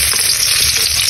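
Garlic sizzles and fries steadily in a hot pan with oil, a continuous close crackling hiss that holds at an even level throughout, with no talking over it.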